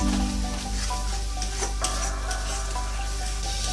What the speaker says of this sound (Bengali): এবার এর মধ্যে কাজু বাটাটা দিয়ে দেবো। ভালো করে কষিয়ে নেবো যতক্ষণ না তেল ছাড়ছে